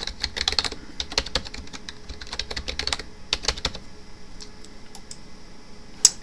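A computer keyboard is typed on in rapid, uneven bursts while a secure password is entered during server setup. The keystrokes are close and crisp, then thin out near the end and finish with one sharp final tap.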